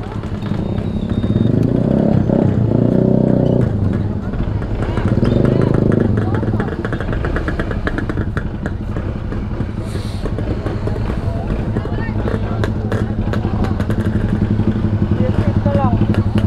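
Adventure motorcycles, including Suzukis, idle and rev close by, a steady rumble with loud bursts, while people talk over the noise.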